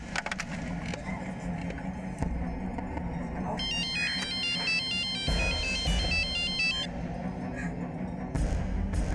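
An outgoing phone call's electronic ringtone repeats in a steady warbling pattern for a few seconds, moderately loud, under background noise and ongoing talking.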